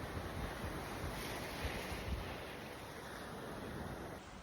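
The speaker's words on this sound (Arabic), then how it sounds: "أهلا ببحر اسكندرية وجمال بحر اسكندرية" Sea waves on the Alexandria beach wash in a continuous broad rush, with wind buffeting the microphone, a steady roar and no voices.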